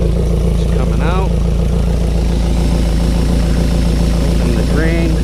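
A Suzuki 70 hp 4-stroke outboard idles with antifreeze running through its coolant during winterizing, a steady close low-pitched hum and rattle that continues under people talking.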